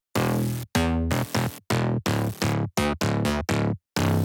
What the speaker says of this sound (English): So the bass sound like this.